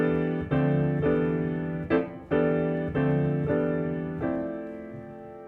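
Jazz piano comping in a modern jazz band style, heard alone: a steady series of sustained harmonic chords struck roughly every three-quarters of a second, each ringing and decaying, with one brief shorter jab midway, no other instruments.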